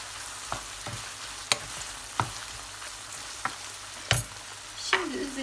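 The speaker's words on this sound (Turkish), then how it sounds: "Kıymaların rengi dönene kadar karıştırdım." Ground meat sizzles steadily in a hot pan while a utensil scrapes and stirs a few times, sharp clicks standing out over the constant frying hiss.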